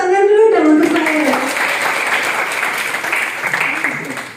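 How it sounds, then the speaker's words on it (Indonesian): Audience applause breaks out for a speaker at an Indonesian-language talk on speaking skills, a dense sustained clapping that follows a brief voice at the start and carries on steadily to the end. "Tepuk tangan dulu dong untuk saya."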